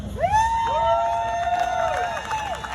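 A lively crowd cheers and whoops at a bass fishing tournament weigh-in on the Sabine River, a loud wall of excited voices with high shouts rising and falling throughout.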